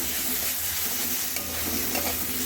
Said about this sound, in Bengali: আবার একটু নাড়াচাড়া করে মিশিয়ে নিচ্ছি